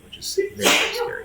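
A single sharp sneeze bursts out close by during a tabletop game of A Song of Ice and Fire, cutting across a person talking.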